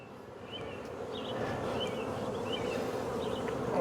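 Honeybees buzz densely over a hive frame full of brood, a close, continuous droning hum with occasional individual bees whizzing past.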